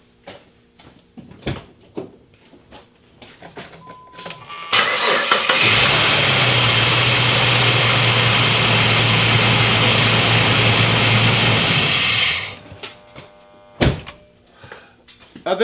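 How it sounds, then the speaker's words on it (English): A car engine cold starts off a Topdon T01 jump starter: a brief cranking, then a loud steady idle hum lasts about seven seconds before cutting off, with handling clicks and knocks before and after. "see if this thing will start the car on its own"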